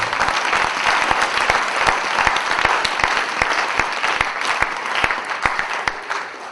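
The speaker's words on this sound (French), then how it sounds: "Acclamons le roi de Salem," Dense, steady applause from a church congregation fills the space, many hands clapping at once in a continuous, even roar with sharp individual claps standing out, no voices rising above it.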